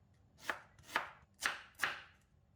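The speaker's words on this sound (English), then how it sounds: "Fold bunga kantan, cut into half and slice thinly." Torch ginger flower (bunga kantan) being sliced thinly with a knife, four crisp, evenly spaced cuts landing on a board, close and quiet with nothing else heard.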